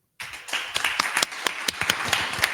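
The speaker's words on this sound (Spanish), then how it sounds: "Un fuerte aplauso" An audience claps for a speaker at a panel discussion on gender violence and women's challenges, a burst of mixed hand claps starting abruptly and continuing steadily, fairly close, with no talk over it.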